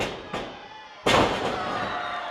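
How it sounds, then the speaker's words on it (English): A wrestler is powerbombed onto the mat in the middle of an indoor wrestling ring. A sharp thud is followed by a loud crowd roar that stays close and sustained. "Power bomb right in the middle of the ring."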